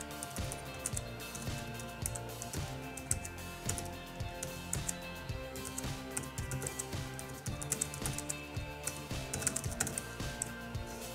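Fingers type on the keyboard of an ASUS Transformer Book T100 Chi 2-in-1, a quick irregular patter of soft plastic key clicks running steadily for about eleven seconds, close and fairly quiet, with no voices.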